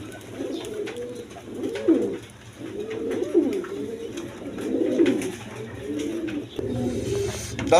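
Pigeons coo close by in a steady series of five or six throaty, rolling calls, each a low warbling phrase separated by short pauses.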